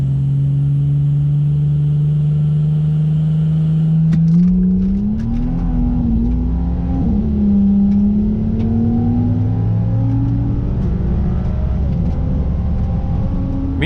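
A Ford Falcon drag car accelerates hard down the strip, its engine note climbing through the gears with a sharp shift bang partway, then a long rising roar fading slightly as it pulls away.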